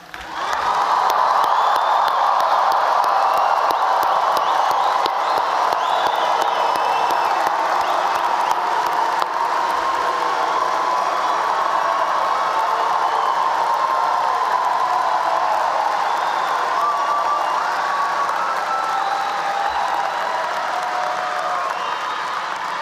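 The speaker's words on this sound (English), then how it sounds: "let's give another round of applause with all the excessive noise you can produce." Commencement crowd at a College of Agricultural Sciences ceremony applauding and cheering, a loud, sustained roar of clapping mixed with shouts and whoops that holds steady for over twenty seconds.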